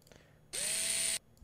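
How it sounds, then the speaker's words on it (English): A drill pod in the Henry Stickmin Collection video game starts drilling with a sudden loud whirring, its pitch sweeping upward as it spins up. The whir holds for about two-thirds of a second, then cuts off abruptly. "Drill pod."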